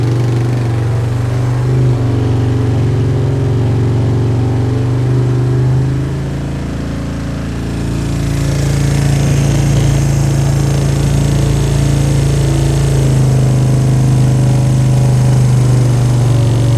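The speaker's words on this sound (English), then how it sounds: "Let that high idle there for a second." Suzuki Ozark LTF-250 ATV engine held at high idle while running poorly: a loud, steady mechanical drone that dips briefly and then resumes at a slightly higher, rougher pitch, with no talking.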